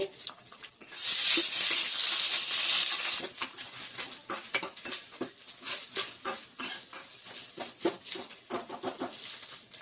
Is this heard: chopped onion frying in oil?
yes